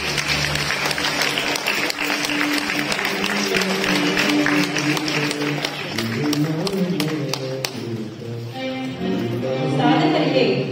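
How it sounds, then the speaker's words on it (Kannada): A crowd gives loud, sustained applause for honoured achievers at a Lingayat community ceremony during Dhanurmasa pooja, a dense clatter of hands over low voices and musical tones before it thins out near the end. "ಅವರಿಗೆ ಒಂದು ಜೋರಾದ ಚಪ್ಪಾಳೆ"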